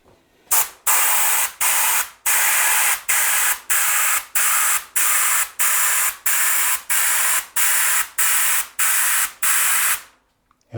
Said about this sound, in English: let's try to spray some dots